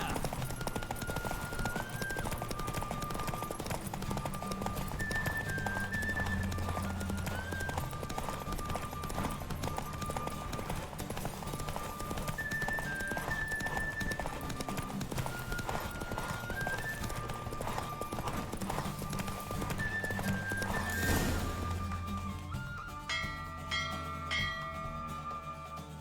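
A horse gallops in The Witcher 3 with rapid, steady clip-clop hoofbeats over a continuous rushing ambience, with occasional bell-like tones, close and prominent, ending in a sudden brief flurry before things quieten.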